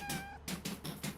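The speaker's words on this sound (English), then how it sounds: "I've lost my cat. Oh, there you are." A cat meows in the video game PowerWash Simulator 2, a few short, close, clear mews in quick succession.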